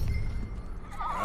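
A horse in Red Dead Redemption 2 gives a short, close whinny that rises and wavers near the end, over a low rumbling game background with no talk.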